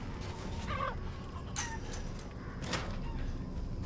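Scattered chicken clucks in the video game Resident Evil Village, over a low, steady background rumble, with a couple of brief sharp noises in between; fairly faint and no talking.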